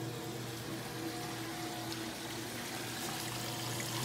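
Water drains out of a Maytag washing machine, a steady low gushing and trickling flow with a faint pump hum, continuous and fairly quiet.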